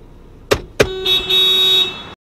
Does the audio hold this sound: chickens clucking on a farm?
no